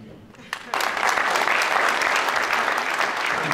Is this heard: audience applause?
yes